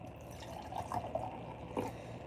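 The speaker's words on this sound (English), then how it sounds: "Simply apple juice and pour that into a bowl, into a glass." Apple juice pours into a glass in a short, soft trickle with faint splashing, close by and fairly quiet, no talking.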